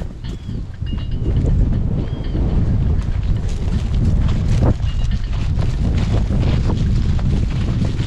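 Steady low rumbling cold wind buffeting the microphone on a farm, loud and continuous, with faint distant sounds underneath.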